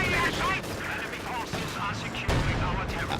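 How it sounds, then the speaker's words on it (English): Mortar and gunfire hit a Panther tank in a video game battle, with continuous loud bursts of shots and blasts under a commentator's voice. "They're taking now fire from the mortar,"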